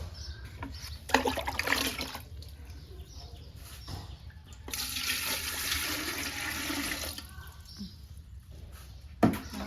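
Water is scooped and poured, making two sustained splashing, gushing pours with a quieter stretch between them and a sharp knock near the end. Faint birds sound in the background.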